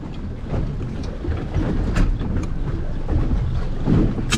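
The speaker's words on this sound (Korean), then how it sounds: "바람이 너무 많이 불어서" Strong wind buffets the microphone on a boat at a water-leisure spot on a river, a continuous rough roar with low rumbling gusts and no talking.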